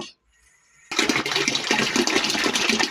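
Water is measured out and poured for mixing homemade dishwashing liquid: after a near-silent moment, a loud continuous rush of pouring liquid begins and runs on steadily.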